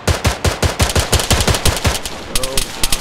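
Rapid automatic gunfire in the military game Arma 3 during an infantry town assault, sharp repeated shots in quick bursts and a steady rhythm, loud and close, with a brief pause before more shots.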